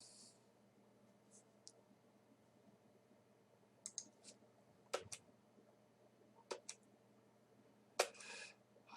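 Sparse computer keyboard typing in a quiet room, scattered soft clicks and a few sharper isolated key taps, faint and close.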